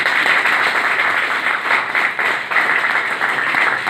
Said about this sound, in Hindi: लगता है ताली बजा बजा के थक गए।